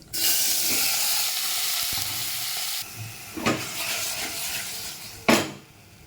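Mango and tomato hit hot oil with five-spice tempering and dried chilli in a pressure cooker, setting off a loud, sustained sizzle broken by a few sharp stirring clanks against the pot.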